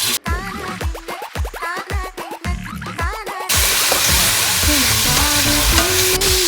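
Beef hits hot sesame oil in a pan, bursting into crackling, popping sizzle with stirring scrapes, then settling into a loud, steady dense frying hiss.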